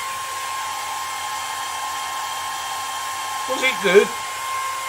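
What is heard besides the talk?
Morphy Richards hair dryer drying paint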